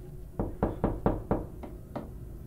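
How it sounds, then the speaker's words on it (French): Faint tapping knocks on glass, seven light raps in an uneven run, close by and quiet with no voices. "un faible tambourinage, comme si ça toquait contre la vitre"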